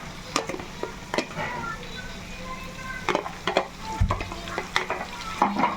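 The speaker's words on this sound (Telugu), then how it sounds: "ఇప్పుడైతే అల్లం వెల్లుల్లి పేస్ట్ వేసేసుకుందాం" Ginger garlic paste sizzles and fries in a pan with chicken, a steady crackling hiss broken by repeated scraping knocks of a spoon stirring against the pan, close and clear.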